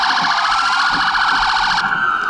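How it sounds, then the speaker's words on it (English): A loud emergency vehicle siren wails continuously with a rapid warbling pattern at a mock crash drill, then shifts to a steadier tone near the end. "they hear the sirens"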